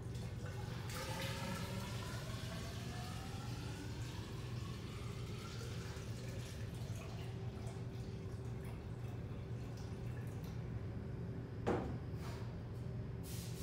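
Water runs steadily into a plastic container being filled up to a marked line, a continuous pouring wash with rising tone that goes on for the whole stretch, with a brief clunk near the end.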